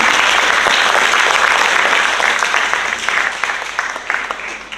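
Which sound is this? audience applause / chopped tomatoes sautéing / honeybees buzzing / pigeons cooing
audience applause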